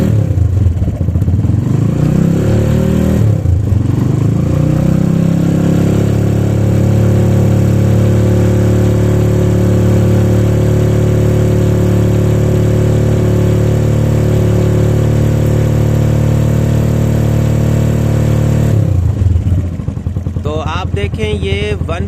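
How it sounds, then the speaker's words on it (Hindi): A vehicle engine charging a lithium starter battery revs up loudly and holds a steady high roar for most of the span, then drops back toward idle near the end, with a voice speaking at the start and finish. "मैं रेस देता हूँ, ये बढ़ जाएंगे।"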